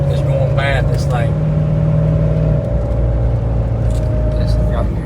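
Old Jeep with a failing front drive shaft rolling along, its engine droning loud and steady with a whirring tone up close, while a voice talks over it.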